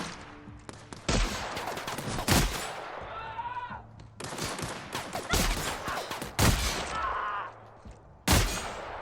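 Heavy-recoil gunfire in The Outer Worlds video game, loud shot bursts in several clusters with pauses between them and faint game sounds in the gaps.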